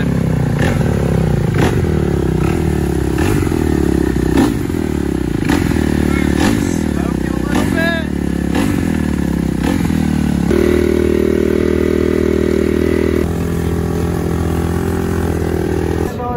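A cold dirt bike engine being started, with a loud, rough engine roar and repeated rhythmic clattering pulses throughout, settling into a steadier drone toward the end.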